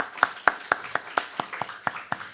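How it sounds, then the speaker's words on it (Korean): Scattered claps from a church congregation during a Sunday sermon at a fasting prayer retreat, about nine fairly loud, evenly spaced hand claps over a couple of seconds rather than a full burst of applause. "박수."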